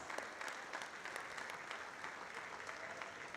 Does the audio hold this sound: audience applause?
yes